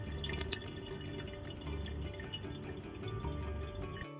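Steady trickling and dripping water noise from an aquarium weir box fitted with a Red Sea diaphragm valve, a continuous close splashing flow with small irregular drips, no voices.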